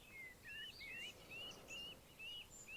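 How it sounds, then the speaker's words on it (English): Birds singing outdoors: repeated high, quick chirping phrases at a regular pace, faint and somewhat distant, with no talk. "listen to the birdsong around you"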